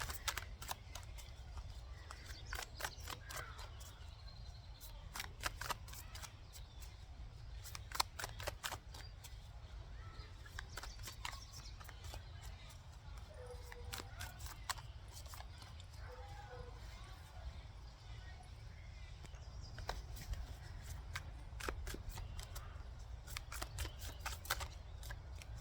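A deck of tarot cards is shuffled in a quiet room, with soft repeated riffling and crisp flicking taps coming in bursts throughout, faint and close.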